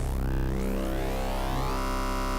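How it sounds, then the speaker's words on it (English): Ableton Live Wavetable synth tone with its FM amount being raised, a dense, buzzing sustained sound whose upper harmonics sweep and shift continuously, loud and unbroken with no voice. "you'll see and hear the sound change based on the frequency modulation"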